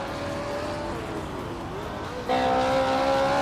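Race cars in an AI car racing video game roar in a steady engine drone, with a sharper, louder rise in engine pitch midway as cars push on, continuous and close throughout.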